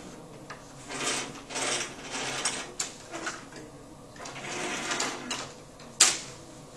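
Metal lathe cutting a thread with a 60-degree V tool, a series of close mechanical scraping and clicking passes with irregular bursts and a sharper click near the end.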